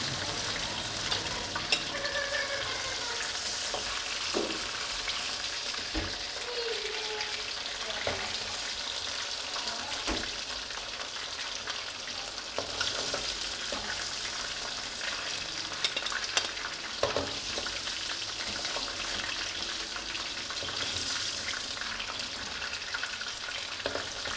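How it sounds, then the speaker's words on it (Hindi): Chicken sizzles steadily while frying in a pan in a village kitchen, with scattered scraping clicks as it is stirred. The frying stays loud and even throughout, with no talking. "चिकन साढ़ा फ्राई हो चुके हैं"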